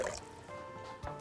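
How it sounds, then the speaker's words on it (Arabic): A small splash of water poured into a pan of simmering sauce with kofta-stuffed eggplant rolls, a brief liquid trickle over a low kitchen background hum. "لو حسيتوا انها شوية عايزة شوية مية بنقدر نحط لها نقطة كده"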